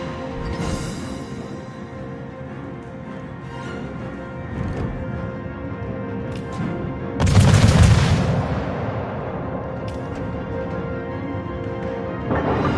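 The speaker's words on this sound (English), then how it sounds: "so I can keep shooting without having to worry about being detected." Naval guns firing in a warship combat game from the French destroyer Jaguar, booming salvos with a big low rumbling blast midway over steady engine and sea ambience.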